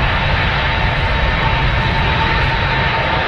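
Engines of a jet airliner spool up for departure at Manchester Airport, a loud, steady roar with a thin whine running through it, heard from nearby without a break.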